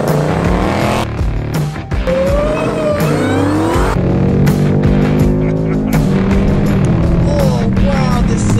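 Wide-body Dodge Challenger Hellcat accelerating hard, a loud sustained engine roar with rising gear-like harmonics and brief dips between pulls, close and dominant, with music-like tonal layers mixed underneath.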